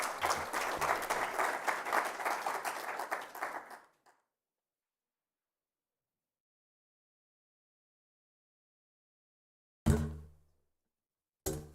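A conference audience at Cyberweek Africa claps for a speaker coming on stage, a dense burst of applause lasting about four seconds before cutting to silence, followed later by two brief loud thumps.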